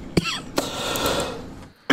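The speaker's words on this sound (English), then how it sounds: "Sorry about the cough again." A man coughing indoors during a game session: two sharp, close coughs a fraction of a second apart, followed by a breathy pause and another abrupt burst at the end.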